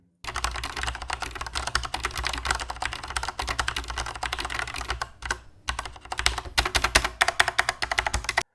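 Rapid clacky keystrokes on a HyperX Alloy Elite RGB mechanical keyboard with a steel frame, close up, in continuous bursts with a brief pause midway, then typing resumes.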